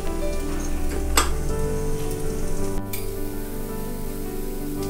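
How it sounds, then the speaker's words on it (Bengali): Poppy seed fritters frying in mustard oil over low heat, a dense, even sizzle that holds steady throughout, with one sharp spatter or utensil tap near the start. "কম আঁচে ভাজবো।"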